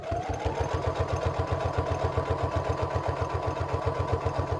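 A sewing machine runs a steady, rapid rhythmic zigzag stitch through cereal box cardboard, close and continuous with a low mechanical hum.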